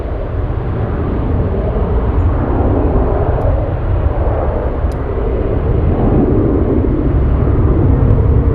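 Delta 1656 airliner takes off from runway 7 left at Anchorage, a loud, continuous broadband jet roar and rumble holding steady throughout, heard alone.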